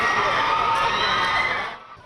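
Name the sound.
crowd cheering as BTS's Jin appears on a Paris street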